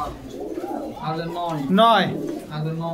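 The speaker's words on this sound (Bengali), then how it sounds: "এটা মাদি, এটা মাদি কবুতর, এটা ভালো" A female pigeon coos at a pigeon seller's shop, the low, throaty rolling calls close and clear, rising to a louder swell near the middle.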